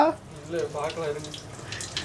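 Water gurgles and splashes steadily as it pours from a pipe into a large fish tank, close and moderately loud, with a faint voice underneath.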